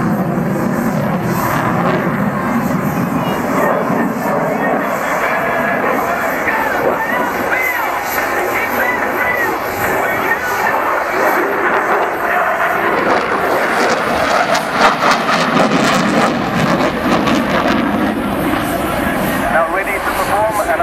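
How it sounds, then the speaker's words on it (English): Aerobatic display aircraft flying at the Fairford airshow, its engine roar rising and falling over crowd babble and cheering, with a commentator's voice running over it throughout. "Now ready to perform another high altimeter roll before repositioning and beginning the next sequence of aerobatics."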